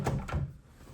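A hotel nightstand drawer slides open or shut in a quick one-second movement, with two soft knocks followed by a faint fading rumble.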